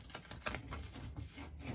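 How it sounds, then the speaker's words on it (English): A deck of Light Seers Tarot cards is shuffled, producing faint, quick papery flutters and soft rapid taps over a short stretch. "Some initial shuffling."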